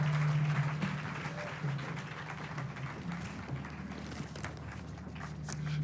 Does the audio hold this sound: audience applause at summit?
yes